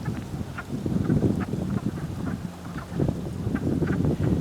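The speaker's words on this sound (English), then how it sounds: "It sounds like ducks that are quacking." Ducks quack at a pond outdoors, repeated raspy calls in uneven bursts under steady wind rumble on the microphone, moderately near.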